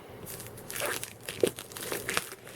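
Plastic packaging wrap being peeled off a Stadia controller box, giving a close, crinkly, tearing rustle in several uneven bursts with a sharper crackle partway through.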